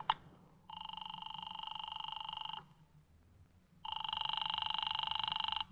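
Old-fashioned telephone bell in an old time radio drama rings twice, each ring a sustained electric trill lasting about two seconds with a pause between, fairly close and alone over faint background hiss.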